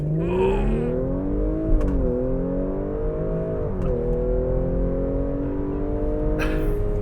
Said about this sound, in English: Without further ado, let's see what it can do to 60. Mash the brake, gas, boost up.